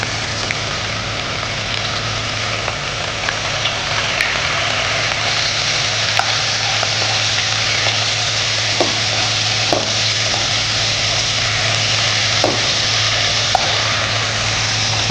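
Mutton tipped into hot masala in a pan for a Madurai-style uppu kari, giving a loud, dense sizzle with a few sharp ladle scrapes and knocks against the metal, close up and with no talk.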